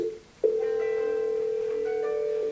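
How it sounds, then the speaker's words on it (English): Ringback tone on a Cisco 8811/8851 IP phone: a steady electronic tone starts after a short blip and holds at even loudness, close and clear, with no talking. "Hear the ringtone?"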